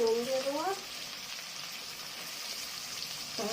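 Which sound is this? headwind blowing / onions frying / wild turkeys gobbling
onions frying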